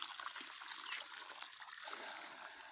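Water runs along an irrigation ditch in a corn field, fed from a 25 mm hose, a soft, continuous trickling flow heard faintly and steadily without voices.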